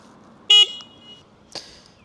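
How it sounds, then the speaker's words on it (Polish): Two short, loud honks from the horn of a Dualtron Thunder 2 electric scooter, a 72V 40Ah model: a bright electronic beep followed about a second later by a second briefer blast, close up with quiet between. "Jeszcze Wam pokażę, jak działa klakson."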